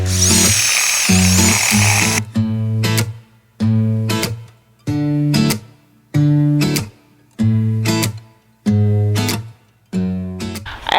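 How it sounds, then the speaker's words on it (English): Power auger drilling a planting hole in garden soil, a loud close motor whine in repeated bursts of about a second, each cut off by short pauses, after an opening stretch of rougher engine noise. "I've got this auger that hubby bought me, so I'm going to use it for the first time."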